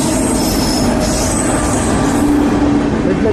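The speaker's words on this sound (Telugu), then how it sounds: "రైలు కనపడుతుంది." A train rolling past close and loud at Tenali, a steady heavy roar of wheels on rail with a sustained squeal running through the middle.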